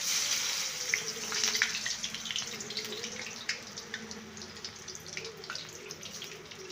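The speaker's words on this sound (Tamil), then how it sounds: "நல்லா பொரியுது." Cauliflower frying in hot oil gives a soft, continuous bubbling hiss with scattered faint crackles, fairly quiet and close.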